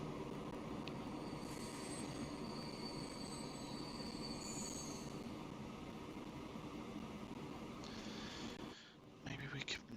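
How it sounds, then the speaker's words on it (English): Coal train rolling through in the Transport Fever 2 game, a steady dense rumble of wagons with faint wheel squeal, close and continuous, fading slightly near the end. "they're going to have to wait for this coal train to roll through"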